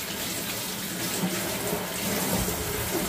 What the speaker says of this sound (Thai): ล้างถั่วให้สะอาด